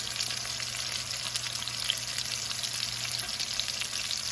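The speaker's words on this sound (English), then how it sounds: "We're going to add to our garlic, which is going to cook for 30 seconds." Chopped garlic sizzles steadily in a hot pan over medium-high heat, a dense, even frying hiss that carries on without a break and with no talking over it.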